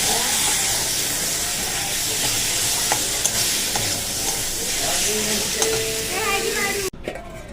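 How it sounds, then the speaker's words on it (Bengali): Potato curry sizzling and frying in a pan as the base for prawn malai curry, with steady close hiss and occasional stirring scrapes throughout, then cutting out sharply near the end. "এই যে কষিয়ে নিই"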